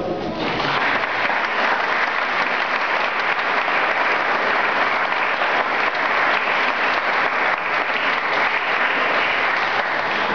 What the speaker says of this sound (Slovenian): Zato se zagotovo zasluži aplavz.